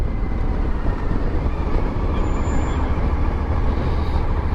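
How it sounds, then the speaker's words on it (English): Heavy freight train rumbling past at close range beside a Swiss road, a steady loud low roar with no clear breaks, heard alone. "We've been done by a cargo train."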